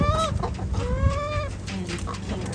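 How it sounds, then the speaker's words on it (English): Chickens cluck and chatter close by in a short, busy burst of overlapping calls, with no talking. "I've let the chickens out."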